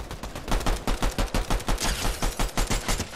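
Pistol fire in an online shooter, a rapid steady string of about fifteen sharp close shots at an even rhythm, loud and alone with no talk.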